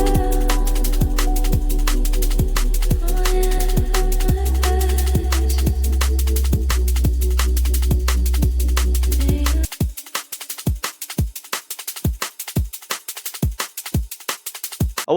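Liquid drum and bass drum pattern built from samples in Ableton: crisp kicks, snares and ticking hats at a fast tempo, first over a sustained bass and pad, then stripped back to dry drums alone.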